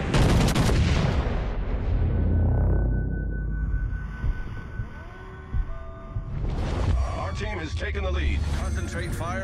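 Warship guns firing in World of Warships: Legends, heavy booming volleys at the start and again near the end, separated by a quieter stretch of ringing tones, with game voice callouts heard among the blasts.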